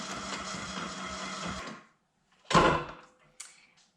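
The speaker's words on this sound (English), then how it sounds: "now we'll go ahead and give this a whirl on our mixer" A stand mixer whirs steadily as it kneads sourdough pizza dough, a loud motor hum for about two seconds, then stops, followed by a couple of brief clunks.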